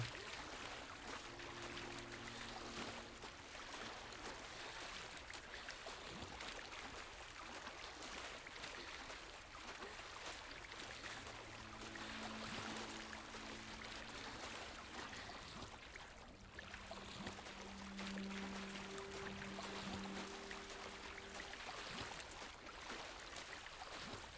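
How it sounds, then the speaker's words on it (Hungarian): Swimming through water in Hogwarts Legacy, a continuous rushing, trickling wash of splashing with a low game-music drone underneath, steady and unbroken with no talk. "Lol, lehet úszni!"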